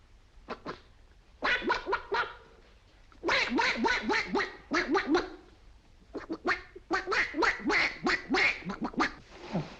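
A voice imitates a duck, giving bursts of rapid, nasal quacks in several quick runs with short pauses between them.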